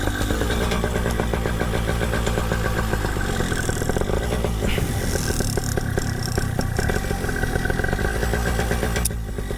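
Paramotor engine idling a bit low, a close, steady mechanical clatter and buzz with an uneven chugging rhythm running throughout without pause.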